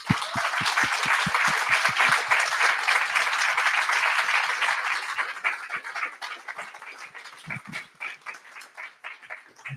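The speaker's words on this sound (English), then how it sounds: "please give a huge round of applause for everyone" Meetup audience applauding the evening's speakers, a dense burst of steady clapping that thins out into scattered individual claps and fades over several seconds.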